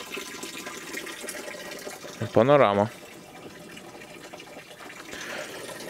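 Water runs steadily from a small spring under a stone shelter in Macedonia, a continuous wash in the background, with one short spoken phrase partway through.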